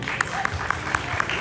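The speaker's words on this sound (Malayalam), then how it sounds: "എല്ലാവരുടെയും അനുവാദത്തോടുകൂടി പിള്ളേരെ കൈയടിച്ചേ" Children clap together at a raffle, a steady patter of hand claps with sharper beats at regular intervals, mixed with faint crowd murmur.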